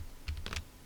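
A few quiet, quick clicks of computer keyboard keys being pressed during a basic Excel lesson, spaced irregularly over less than a second.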